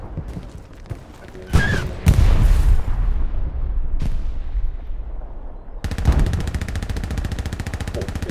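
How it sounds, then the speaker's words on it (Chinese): Machine gun fire on the Utah Beach map of Hell Let Loose, a sharp opening burst, heavy booming shots, then a long rapid rattling stream of automatic fire, loud and close, with players talking. "可能我哋听紧两支机枪"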